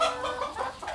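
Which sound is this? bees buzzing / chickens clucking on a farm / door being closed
chickens clucking on a farm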